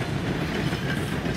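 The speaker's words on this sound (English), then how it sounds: "Well, that's a long train." A long train rolls past in Red Dead Redemption 2, a loud, steady rumble with rhythmic rail clatter throughout.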